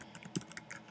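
Quick, faint clicking of a computer keyboard as a web address is typed, a handful of light keystrokes close by.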